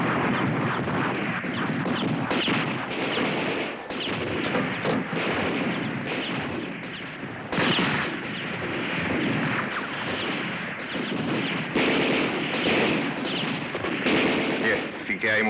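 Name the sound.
battle gunfire and artillery in film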